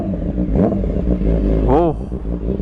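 BMW S1000RR superbike fitted with an Austin Racing exhaust, its engine revving in two quick rising blips over a steady loud idle, close by and outdoors.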